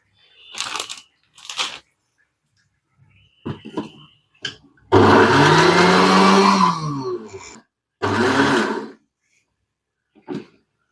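Bread being ground into crumbs in a kitchen mixer jar: a loud, dense whirring burst of about three seconds, then a second shorter pulse, with scattered clicks and knocks of handling before and after.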